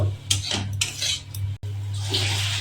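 Metal spatula scraping and clanking in a pan as bitter gourd is fried and stirred, a few sharp strokes over a steady low hum, close by.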